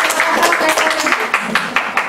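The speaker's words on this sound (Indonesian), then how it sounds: "tepuk tangan" A burst of crowd applause at a church service, dense and close, with many hands clapping at once and steady loudness throughout.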